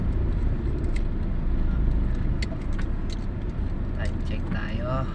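Rush-hour road traffic on EDSA at Guadalupe in Manila makes a continuous low rumble of engines with a few passing vehicles and horn-like tones, while voices talk over it.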